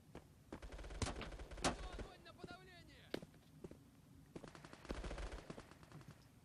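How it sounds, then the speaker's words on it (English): Gunfire in the first-person shooter game Bullet Force: several sharp bursts and single shots, some close and loud, mixed with footsteps and game effects, with someone talking over much of it. "They're shooting at me."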